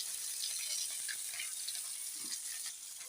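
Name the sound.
snakehead fish frying in a pan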